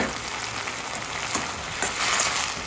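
Steady, close sizzling hiss of vegetable manchurian balls being stir-fried and tossed briefly in sauce in a hot pan, continuous and even with a few soft scraping accents.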